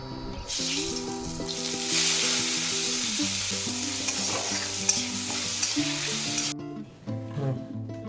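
Fish heads and dried chillies frying in hot oil for Bengali muri ghonto, a steady hissing sizzle heard under prominent background music that cuts off near the end.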